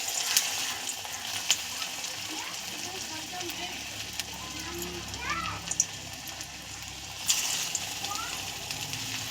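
Fritters (boras) of flower batter sizzle and crackle in hot oil, a continuous frying hiss with occasional sharper pops and clinks as more batter goes in.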